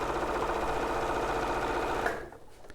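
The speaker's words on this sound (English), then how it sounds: "I'm just going to sew this on because I want to get on to the next bit." A sewing machine runs in one steady, fast burst, stitching a Moda quilt panel up close, then stops abruptly near the end, leaving quiet room tone.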